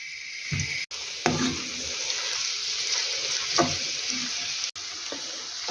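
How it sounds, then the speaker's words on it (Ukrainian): Onion frying in a pan gives off a strong, steady sizzle, close and loud, broken by occasional clatter of a utensil stirring against the pan. "Спочатку трошечки обсмажу цибулю"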